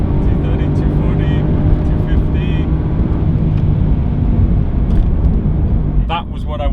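A Mercedes-AMG GT R and a 700 hp Audi RS4 B5 drag race side by side, producing a loud, sustained engine roar that runs unbroken and eases slightly near the end, with a voice speaking faintly near the close.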